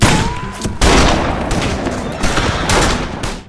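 Rapid gunfire from a lightning-fast draw in a Western film, several loud close shots and booming reports in quick succession over a dense, busy action soundtrack.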